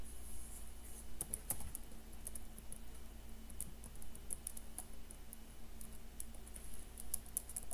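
Keys tapped at a steady, uneven patter on a computer keyboard while a Windows 8 product key is entered, soft clicks with occasional sharper strokes over a constant low hum, no voices.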